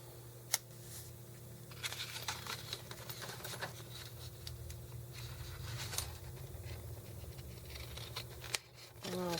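Scissors snipping in short, close, quiet bursts of crisp cuts separated by pauses, with a voice talking at times in between.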